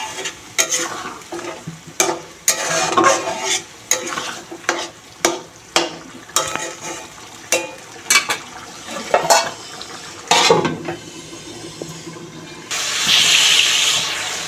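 Chicken curry masala with added water being stirred in a pan, a string of close wet scraping and sloshing stirs with brief pauses, ending in a steady hiss of simmering liquid.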